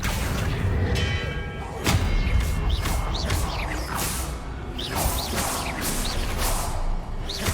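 Spells Confringo, Expelliarmus and Accio cast in the video game Hogwarts Legacy: a dense, loud stream of whooshes, thuds and crackling blasts with rising magical swishes repeating over a rumbling bed.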